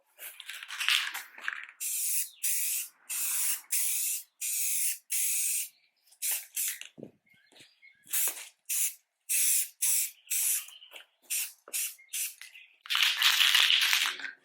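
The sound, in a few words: spraying a coat of restorer on faded car plastics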